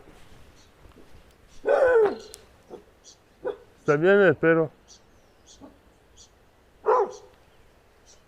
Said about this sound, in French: J'aime pas les chiens comme ça qui aboient, quoi.